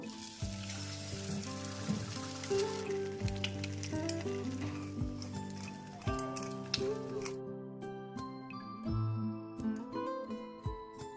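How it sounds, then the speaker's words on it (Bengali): An egg poaching in a frying pan sizzles faintly and steadily, with clinks and scraping of a utensil and pan recurring throughout, with some sustained musical tones alongside. "এবার আমি পোচটা বানিয়ে নেব"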